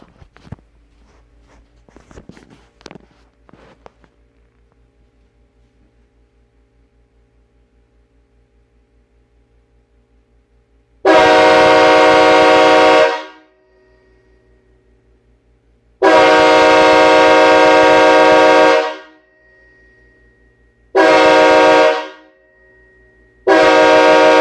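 A 1980s CSX K5L five-chime locomotive air horn, fed from aired-up tanks, sounds in three long loud chords and one shorter blast, separated by silences, after a few faint clicks and rattles of preparation.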